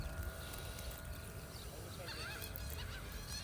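Geese and ducks honk at an outdoor pond, several calls rising toward the end over steady background noise.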